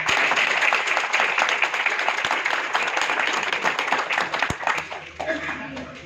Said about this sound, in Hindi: मैं चाहूंगा कि आप अपने लिए तालियां बजाएं